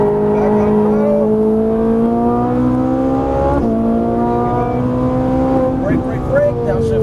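A Ferrari 458 Italia on a race track accelerates hard, its loud close engine note climbing steadily in pitch, dipping briefly mid-run and then climbing again, while a voice talks over it.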